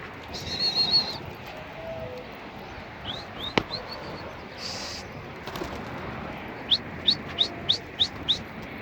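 Tumbler pigeons among other pigeons give soft, faint calls, followed by a quick run of about six sharp, evenly spaced chirps near the end. No talking.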